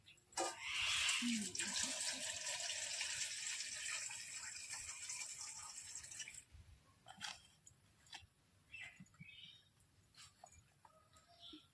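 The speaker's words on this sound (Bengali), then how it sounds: "ফুল কেটে নেব, ধুয়ে নেব আগে" Surimala flowers being washed in water: a strong running-tap splash for several seconds, then softer intermittent sloshing and handling noises.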